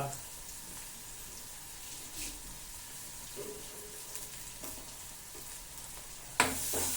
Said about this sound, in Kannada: ಸರಿ ಬೇಯ್ತಾ ಇದೆ ಈರುಳ್ಳಿ ಸಾಸಿವೆ ಜೀರಿಗೆ